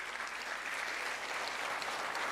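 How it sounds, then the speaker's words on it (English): Sustained applause from a crowd at a university foundation day event, steady clapping that fills the whole stretch without pause. "Big round of applause for what they did."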